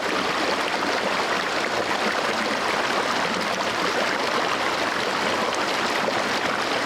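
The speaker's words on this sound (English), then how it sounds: "I listen to the stream and let my breathing slow down." Stream water flowing over rocks outdoors, a dense, steady rushing and gurgling that stays constant and fairly loud throughout, with no voices.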